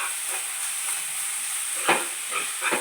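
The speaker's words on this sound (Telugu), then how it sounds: "బాగా ఫ్రై చేసుకున్నాము." Chana dal and coconut frying in a pan, a steady bright sizzle with a few scraping stirs toward the end.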